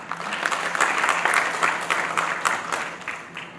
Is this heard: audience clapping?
yes